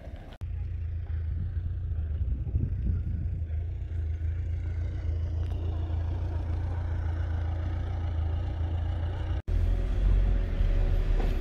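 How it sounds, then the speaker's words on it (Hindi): A 4x4 vehicle engine drives toward Wadi Shees near Khor Fakkan in Fujairah, UAE, giving a steady, loud low rumble that carries on throughout with one brief cut near the end. "चलिए फिर मैं आगे गाड़ी को लेके जाता हूँ"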